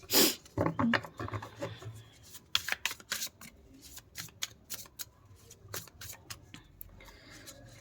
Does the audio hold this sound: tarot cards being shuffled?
yes